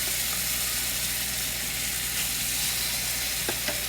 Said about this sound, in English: drop the tofu into the pan and fry it till it becomes golden brown